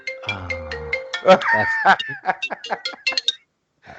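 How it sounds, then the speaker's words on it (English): A short electronic phone tone chimes in a quick melodic burst, followed by chirpy bleeps, close and clear, with people chatting nearby. "that was the phone"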